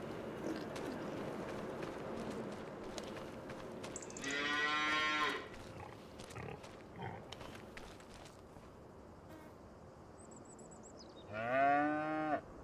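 Cattle moo twice in a farming video game, a long, loud lowing call and then a second one later, over a steady bed of ambient farm background noise.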